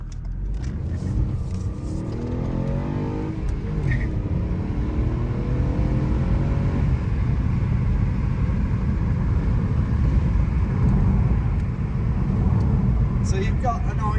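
A Ford Focus MK4 with its standard air filter pulls away from a junction, the engine rising in pitch as it accelerates, then settling into a loud steady drone with induction whoosh close by.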